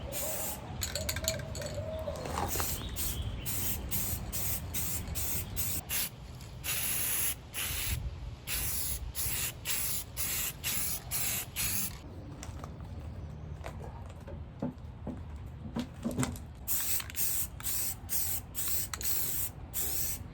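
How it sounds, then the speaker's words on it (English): Bursts of aerosol primer hiss outdoors over furniture pieces, a long spray followed by many short, rhythmic puffs and pauses, fairly close. "I brought the pieces outdoors to prime them, starting with the two pieces upside down."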